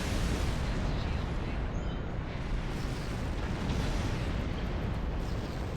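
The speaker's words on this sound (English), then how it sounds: "Swarm missiles that are fairly powerful, to tell you the truth." Swarm missiles launch and burst in Star Trek Online, a dense, steady roar of explosions and rumbling fire with no clear gaps, loud and close throughout.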